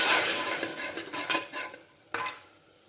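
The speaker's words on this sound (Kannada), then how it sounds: "ಹಾಕ್ಬಿಟ್ಟು ಚೆನ್ನಾಗಿ ಫ್ರೈ ಮಾಡೋಣ." Spice paste for chicken biryani frying in a pan as a spatula scrapes and stirs, a short burst of sizzling rasps and a sharp metallic clink near the end, close and without speech.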